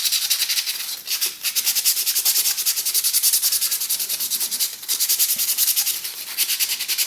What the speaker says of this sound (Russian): Эту полоску перекладываем 2 раза и шлифуем в труднодоступное место.